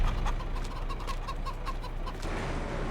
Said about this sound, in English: And then there's our chickens right there.